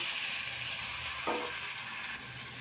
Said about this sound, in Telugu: అందులోనే కట్ చేసి పెట్టుకున్న టమాటాలు, ఉల్లిపాయ, కొత్తిమీర వేసేసుకోవాలి